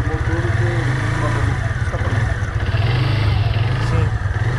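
A Haojue DR160 motorcycle engine idles close by with a steady, even low pulsing throb that holds for the whole stretch, with little change in pitch.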